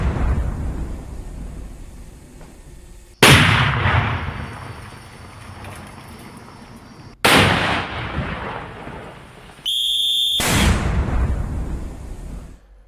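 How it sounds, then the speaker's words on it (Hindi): Controlled detonations of IED bombs destroyed by security forces in Jharkhand: three heavy booming blasts several seconds apart, each a sudden loud crack rolling into a long rumbling tail, heard from a distance. "धमाके की आवाजें इस समय आपकी टेलीविजन स्क्रीन पर आ रही होंगी। सुरक्षा बलों ने सभी आईईडी बमों को नष्ट कर दिया है।"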